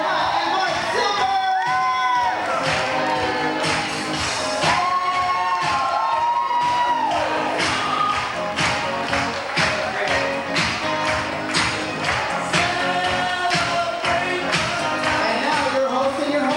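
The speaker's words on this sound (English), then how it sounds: "Give a big round of applause for Dina and Mark Silver!" At a 2001 wedding reception, guests cheer, whoop and clap for the groom's parents. The crowd noise is loud and sustained, with some clapping, and music-like tones run underneath throughout.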